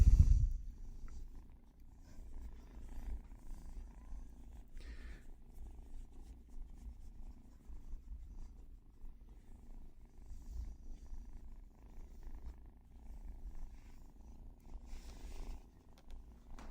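Soft, steady purring from a small cat, close and quiet, continuing in a gentle rhythm with faint background rustles.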